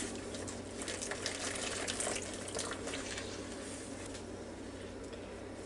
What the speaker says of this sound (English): I have 2 cups of boiling hot water, and we're just going to mix it together.